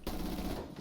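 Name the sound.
gunfire in the video game Rainbow Six Siege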